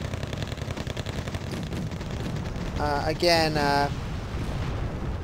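Tank gunfire and explosions from a T-64 battle in Wargame: Airland Battle, heard as rapid distant shots and rumbling blasts at moderate volume, while someone talks over the fighting.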